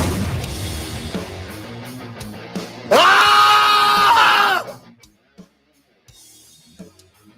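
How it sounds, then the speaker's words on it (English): A loud, sustained primal scream, played back as a clip on a sports talk show about a former Sacramento Kings player, bursts out over crowd noise, holds for about two seconds, then cuts off into near silence. "That sounds like a primal scream."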